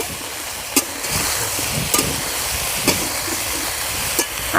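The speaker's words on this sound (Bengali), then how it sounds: "ব্রোকলিটা আলুর সঙ্গে ভেজে নেব" Broccoli and potatoes fry in a pan with salt and turmeric, making a continuous sizzle with a few sharp scraping clicks spaced through it, close and fairly loud.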